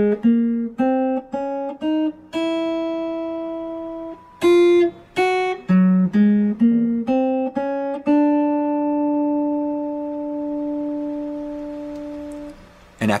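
Clean solo guitar plays the melody of a jazz tune, distinct single picked notes in a phrased line ending on a long sustained ringing note, close and alone.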